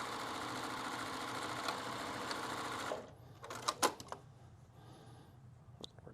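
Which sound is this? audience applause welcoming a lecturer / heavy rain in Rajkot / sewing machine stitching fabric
sewing machine stitching fabric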